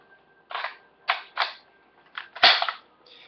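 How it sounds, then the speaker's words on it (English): A T97NSR pistol's magazine release is pressed and the magazine stripped out, giving a series of sharp, close metallic clicks and clacks spaced unevenly, ending with a louder snap as the magazine comes free. "Hit the release and strip the mag out"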